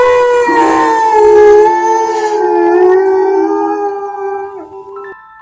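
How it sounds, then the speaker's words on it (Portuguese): A werewolf howl sound effect, a loud, drawn-out wavering howl sliding in pitch over several seconds with rough grunting texture at the start, then breaking off abruptly. "ele escutou uns grunhidos e depois um uivo, como se tivesse sentido muita dor"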